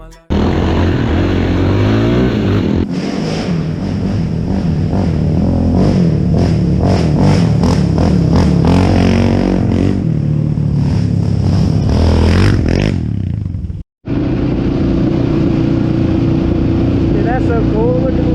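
A small mini bike engine buzzes and revs at an off-road riding park at Busco Beach, loud and steady alongside other engine noise, with people talking over it and a brief dropout near the end.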